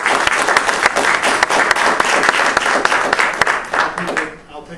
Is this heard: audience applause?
yes